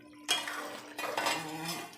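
A metal lid settles onto a cooking pot of duck and ash gourd with a sharp clink, followed by a few soft scraping knocks of metal on metal, close and fairly quiet.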